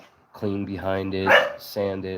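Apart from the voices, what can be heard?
dog barking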